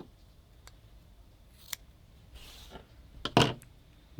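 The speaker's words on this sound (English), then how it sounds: "I'm going to cut that off the hide." Scissors snipping craft fur off the hide while tying a fly, a few soft scattered clicks then one sharp, close snip, quiet and alone.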